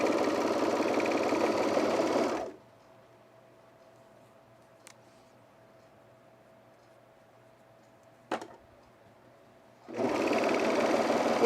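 A sewing machine runs steadily as it stitches a long curved edge of overalls at the side seam, a loud continuous whir for a couple of seconds, then near silence with faint ticks, before the motor starts up again near the end.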